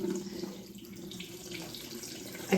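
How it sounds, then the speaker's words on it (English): Lilac-infused water is strained and poured into a gallon-sized container, giving a soft, continuous trickle and splash close by, fairly quiet and without talk. "I'm gonna strain my lilac water into this and then mix up my lemonade."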